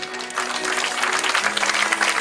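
A church congregation claps loudly and continuously in acclaim of the Lord, a dense sustained burst of many hands with a few faint voices mixed in.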